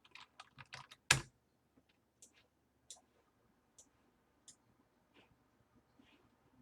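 Keystrokes on a computer keyboard entering a number in 3D modelling software: a quick burst of close clicks with one louder tap, then sparse single key presses spaced out, faint and alone in a quiet room.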